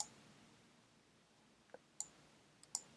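Two or three sharp computer mouse clicks, including a right-click, snap out close and crisp against a near-silent background.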